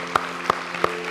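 Three separate claps, evenly spaced, from a church congregation during a Resurrection Sunday morning service, each crisp and near, with a faint hum between them.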